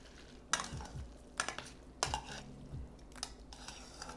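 Oil being stirred into garlic, chili flakes, vinegar and soy sauce in a bowl, with several separate clinks and scrapes of a utensil against the dish, spaced about a second apart, fairly quiet.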